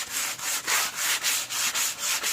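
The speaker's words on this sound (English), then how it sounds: "all we're going to do is just go ahead and sand this one." Old teak boat woodwork, already scraped down, is sanded by hand in steady back-and-forth strokes, each rasping rub rising and falling in an even rhythm, close and alone.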